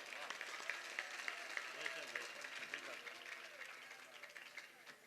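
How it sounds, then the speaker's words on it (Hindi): An audience claps together at a live Hindi-Urdu poetry or qawwali-style stage event, a dense, even ripple of applause that carries on throughout, moderately loud and somewhat distant. "ताली तो आप बजा रहे हैं"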